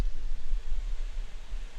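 Steady low whirring drone with a broad hiss on top, constant and unbroken, like computer fans running close by with no talking.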